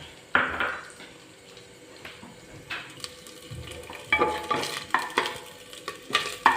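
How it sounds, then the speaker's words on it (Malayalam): Coconut pieces frying in ghee inside a pressure cooker on the stove, with a low crackle and intermittent scraping and clinking of a spoon against the pot at close range. "ഒരു കുക്കർ അടുപ്പിൽ വെച്ച് അതിലേക്ക് ഒരു ടേബിൾ സ്പൂൺ നെയ്യ് ചേർത്ത് കൊടുത്തിട്ടുണ്ട് ഇനി നമുക്ക് ഈ വറക്കാനുള്ള ചേരുവകളൊന്ന് വറുത്തെടുക്കാം"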